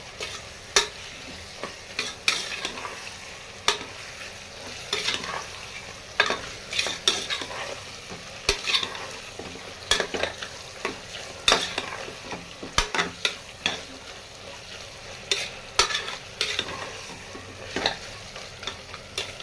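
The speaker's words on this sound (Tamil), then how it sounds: "பச்சை மிளகாய் 2 பச்சை மிளகாய் சேர்த்துக்கிறேன். இதையும் சேர்த்து ஒரு வதக்கிக்கிடுவோம்." Green chilies sautéing in a pan with an even background sizzle, punctuated by frequent sharp spoon scrapes and knocks against the metal as they are stirred, close and continuous with no talk.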